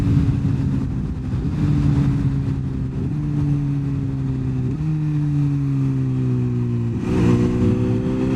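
A Kawasaki H2 SX SE motorcycle with a Scorpion slip-on exhaust running under load, loud and close, its engine note climbing and dropping through several gear shifts in steady succession.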